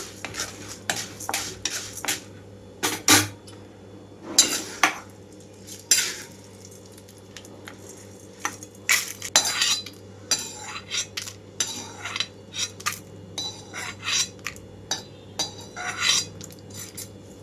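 Urad dal being dry-roasted and stirred in a metal pan, with repeated scraping and clinking of a spoon against the pan as the lentils are moved and transferred to a plate; close, irregular bursts with no talking.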